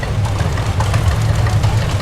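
A John Deere two-cylinder, magneto-fired tractor, a 1930s general-purpose drawbar model with PTO, idles steadily and close by with a loud, low, pulsing chug and no voices.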